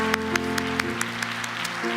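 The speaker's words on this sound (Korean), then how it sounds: "끝까지 사랑함으로 우리를 포기하지 않았던 우리 예수님께 우리 감사와 영광의 박수 함께 드리도록 하겠습니다." A church youth congregation applauds after a sermon, giving a brisk, steady run of many hands clapping with a few sharper claps standing out at regular intervals.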